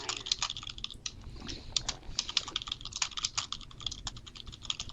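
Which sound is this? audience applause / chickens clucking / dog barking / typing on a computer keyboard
typing on a computer keyboard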